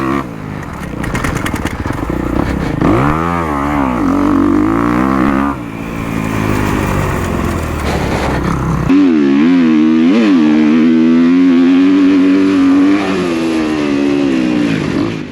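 Stock 2023 Kawasaki KX250 dirt bike ridden over a bumpy motocross track, engine loud and close throughout, revving up and down repeatedly with throttle blips and sustained pulls as it crosses the bumps.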